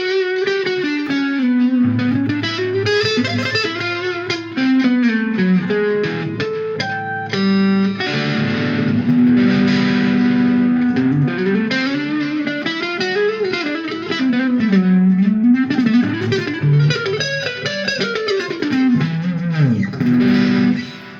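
Epiphone 1984EX Explorer electric guitar with an 85 pickup in the neck position, playing distorted lead lines with bends and sustained notes over a chugging rhythm part, loud and continuous with some reverb.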